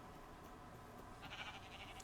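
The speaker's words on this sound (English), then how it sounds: "Good heavens, all the sheep." Sheep in the Minecraft video game bleat faintly over a steady background hum, with a short cluster of thin bleats toward the end.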